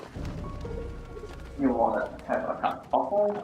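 A bird coos in short repeated phrases in Valiant Hearts: The Great War, heard close and clear in the second half, after a stretch of someone talking.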